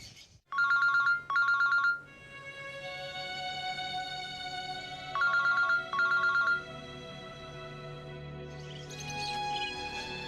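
A phone ringtone repeats in paired bursts of warbling trills over a held musical tone, loud and close, with no voices.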